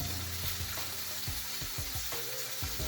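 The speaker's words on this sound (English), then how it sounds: "Excuse the frying in the background." Steady sizzling and crackling of food frying in a pan, with occasional clinks and scrapes of stirring, close and continuous, no voices.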